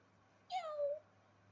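A single short, clear cat meow rises and falls in a quiet room, lasting about half a second against a faint low background hum.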